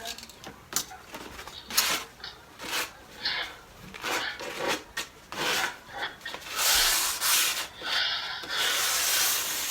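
Light hand sanding of a painted wooden table being refinished, a series of short dry rasping strokes at close range, irregular at first and then longer and steadier, with no voices.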